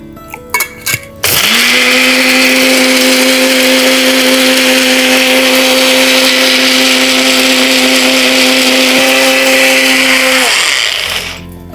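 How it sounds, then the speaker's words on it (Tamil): A kitchen blender grinds siru keerai (amaranth) roots and arugampul grass roots with five to seven black peppercorns, half a teaspoon of cumin and water. A few brief clicks lead into a loud, steady whir that holds for about nine seconds, then cuts off. "சிறுகீரை வேர் அருகன் வேர் இதோட மிளகு ஒரு ஐந்திலிருந்து ஏழு மிளகு அரை தேக்கரண்டி அளவு சீரகம் நீர் விட்டு அரைச்சிடணும்"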